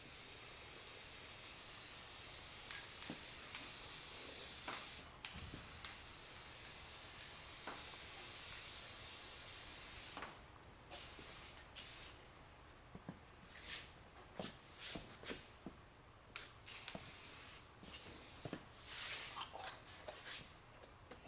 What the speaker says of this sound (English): So I'm spraying this way so I don't hit the edges,